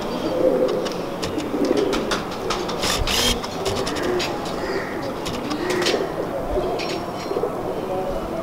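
Pigeons coo steadily and close by, soft low repeated calls under scattered clicks and rustling, with bird noise throughout.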